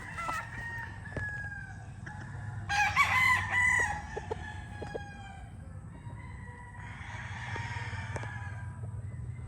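A rooster crows once, loud and fairly close, over a low steady background hum, followed by softer clucking from nearby fowl.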